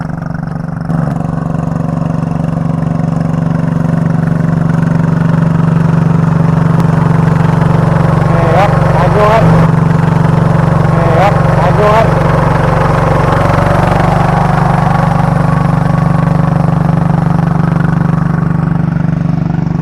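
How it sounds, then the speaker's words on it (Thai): A tractor engine drones steadily and loudly nearby for the whole stretch while working a rice paddy, with a few brief voices cutting in partway through. "เดี๋ยวดูรถไถนึงครับ"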